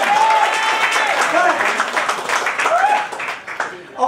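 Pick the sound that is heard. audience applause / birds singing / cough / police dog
audience applause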